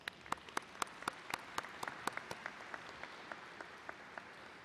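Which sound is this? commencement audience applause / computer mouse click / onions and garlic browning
commencement audience applause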